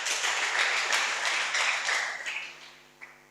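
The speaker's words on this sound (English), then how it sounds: "Let's clap for the Lord." Applause at a level-1 entrepreneurship bootcamp at a vocational training centre, a crowd clapping steadily at close range for about three seconds, then fading out with a final single clap.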